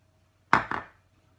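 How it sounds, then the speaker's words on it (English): A single egg goes into papaya bread dough, heard as one brief close knock with a quick second tap right after it, then silence. "Now I'm going to add the egg."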